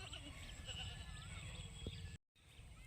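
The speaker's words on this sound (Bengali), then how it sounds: "ছাগলগুলো ওইদিকে কিছুটা বেঁধে নিয়েছি" Goats tethered outdoors near a paddy field, bleating faintly in the distance over steady background noise, with a brief dropout near the end.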